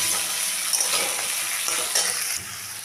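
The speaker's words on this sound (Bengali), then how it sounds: "একটা কুচিয়ে রাখা পেঁয়াজ, দুটো কাঁচা লঙ্কা, একটা টমেটো কুচিয়ে দিয়ে দিলাম, দিয়ে একটু ভেজে নেব" Chopped onion, green chilies and tomato frying in a pan with a steady broadband sizzle, broken by a few stirring scrapes and clatters, close and continuous with no talk.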